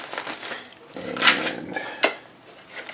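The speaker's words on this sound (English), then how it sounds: "We'll break this open. Try not to break the shells, of course." Shells crack open in a kitchen, with brittle crunching and clinking against dishes. A few sharp snaps and rustles sit close up, and a voice is heard faintly.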